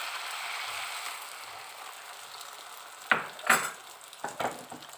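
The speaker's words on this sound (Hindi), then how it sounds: "अभी जो हमारे पास एग का बैटर है, जो हमें अच्छे से मिक्स किया हुआ है, इसे लेंगे और इस तवे पे इस तरह से हम डाल देंगे" Whisked egg batter poured onto a hot tawa for an omelette, giving a steady close sizzle of frying, with several sharp metallic scrapes and clinks from a utensil spreading it toward the end.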